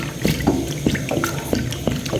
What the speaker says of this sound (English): So I'll pour in our cold water.